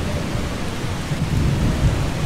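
Heavy rain pours steadily while thunder rumbles low and builds toward the end, a game storm in Eastshade with no voices.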